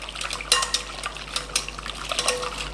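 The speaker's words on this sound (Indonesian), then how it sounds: "Kita kocok dulu ya." A whisk rattles quickly against a metal bowl, mixing the vanilla cream sauce for bread pudding with light clinks and stirring scrapes, steady and close, with no talk.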